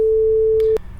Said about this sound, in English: I used onlinetonegenerator.com to generate a sound at 440 Hertz,